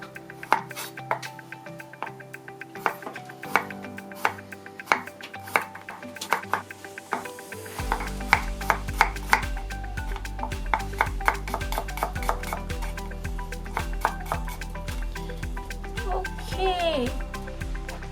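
A knife slices garlic on a cutting board in a regular series of crisp taps, joined midway by a steady low hum and light kitchen clinks, while a person talks throughout.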